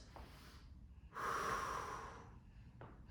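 Deep breathing during a home workout, one long forceful exhale through the nose preceded by a softer breath, close and quiet, with a short sniff after it.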